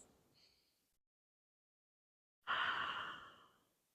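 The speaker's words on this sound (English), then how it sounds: "Breathing in through the nose, exhaling out the mouth." Slow relaxed breathing during a Pilates cool-down: a soft nasal inhale, a stretch of silence, then a fuller, louder breathy exhale out through the mouth that gradually fades.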